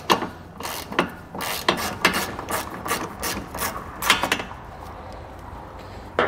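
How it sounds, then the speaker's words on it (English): A ratchet wrench loosens the bolt holding a carbon canister to the frame of a 2020 Mitsubishi during a trailer hitch install: quick runs of sharp metallic clicks in bursts, close and fairly loud, with no talking. "we are going to go ahead and remove it"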